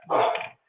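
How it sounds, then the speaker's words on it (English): A dog barks once up close, a single loud bark-yelp that cuts off quickly, followed by near silence. "excuse my dog barking"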